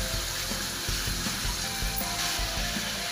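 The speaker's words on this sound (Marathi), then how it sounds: "तर मी दुधी कापून घेतलाय तो टाकून घे" Chopped bottle gourd hitting a hot pan with sautéed dal, giving a steady, dense sizzle with faint clinks and stirring, close and continuous throughout.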